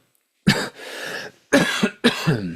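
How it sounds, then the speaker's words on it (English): Three sharp, harsh coughs close to the mic, the first drawn out with a raspy tail, the next two quick and chesty, separated by brief silence. "I have a bit of a cough going on"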